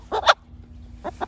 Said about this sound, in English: Now we have got the rooster.